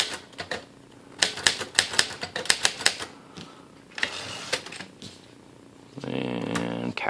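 Backspace and type keys on a 1957 Underwood Golden Touch typewriter, giving a run of sharp, close mechanical clacks with irregular spacing, then a steady buzzing mechanical rattle toward the end.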